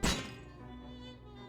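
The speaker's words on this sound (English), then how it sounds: "There's no visible means of opening this monster vault door. Kick it." A vault door is kicked in the video game Shadows Over Loathing, one heavy hollow thunk with a short metallic ring that fades over a second or so.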